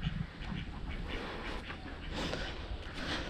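Ducks quack in a farmyard beside a house with cattle, a near, continuous jumble of calls over steady outdoor noise.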